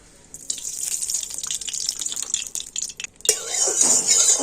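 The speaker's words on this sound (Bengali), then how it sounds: "কড়াতে আমি এখন দিয়ে দেবো সর্ষের তেল" Mustard oil poured into a karahi set on a lit stove, a steady broad hiss and trickle with faint clinks, then a brighter, louder sizzle near the end.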